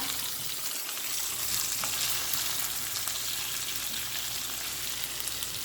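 Pumpkin pieces fry in a pan with a steady, close sizzle and faint scraping as they are turned over, continuous and even throughout with no talk.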